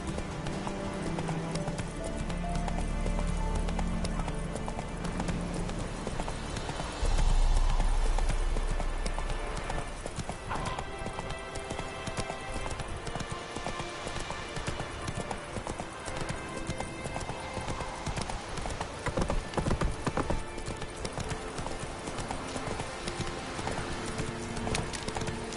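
Roach the horse gallops in The Witcher 3, a fast, loud, close run of hoofbeats in a steady rhythm, layered with game music and ambience throughout.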